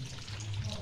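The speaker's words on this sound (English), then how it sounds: "It returns water back into the four fish tanks." A pump in a greenhouse aquaponics setup sends water back into four fish tanks, producing a low steady hum under a faint, continuous trickle of flowing water for under a second.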